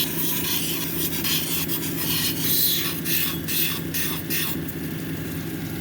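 Petrified wood cabochon edge being ground on a lapidary grit wheel at the girdle, a steady, close rasping rub over a constant motor hum, with scraping bursts rising and falling as the stone is worked around.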